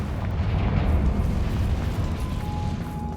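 In Hogwarts Legacy, a Confringo blasting spell goes off as a loud, close, rumbling explosion that swells and then trails off into a sustained roar, with no talking.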